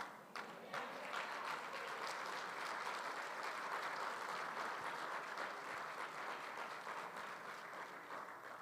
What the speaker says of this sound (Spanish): es primera vez que me aplauden